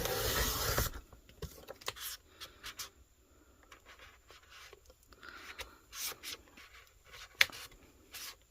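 Tack-It masking material is cut on an epoxy tumbler with faint, close scratchy slicing strokes, irregular and quiet, after a brief louder noise at the start.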